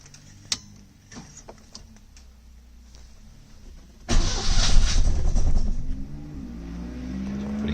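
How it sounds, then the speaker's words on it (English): A rebuilt 1970 Lancia Flavia Milleotto LX engine is cranked on choke: a few faint clicks and ticks, then it fires up abruptly and settles into a loud, steady, slightly uneven idle close by. "so let's see if it runs. Let's give it a bit of choke."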